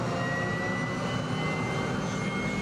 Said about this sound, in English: The propeller of the aircraft revs on.